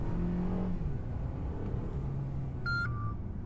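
Inside a Mercedes A220 sedan with a 2000cc engine, moving at around 60 km/h, a low engine rumble and road noise swell gently under acceleration, and a brief chime sounds near the end.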